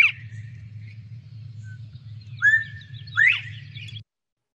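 A recorded bird call plays as a few sharp rising chirps and a thin whistled note spaced across several seconds, heard over a low steady hum.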